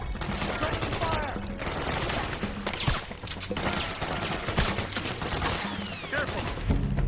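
Dense, continuous gunfire rattles in Metal Gear Solid 4: Guns of the Patriots, rapid overlapping bursts and shots filling the scene loudly throughout.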